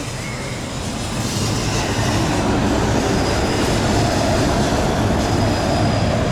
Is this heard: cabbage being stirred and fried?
no